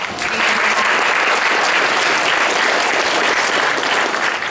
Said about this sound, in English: I think that you should all give yourself a round of applause for coming out today.